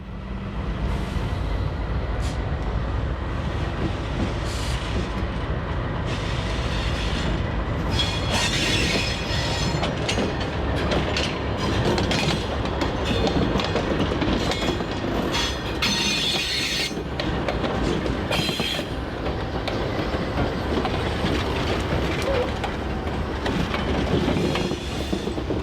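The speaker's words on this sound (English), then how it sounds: "The locomotives were repositioned for the return trip by coupling onto the opposite end of the empty" Locomotives pull a string of empty covered hopper rail cars, a loud, continuous rumble with rhythmic clickety-clack of wheels and bursts of high wheel squeal, heard close and steady throughout.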